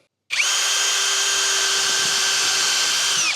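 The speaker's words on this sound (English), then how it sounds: "So now I can go ahead and drill them." A power drill whirs steadily at close range, a continuous high motor whine running without a break, drilling holes for a bonnet aerial and ditch light mount on a Toyota Prado 250.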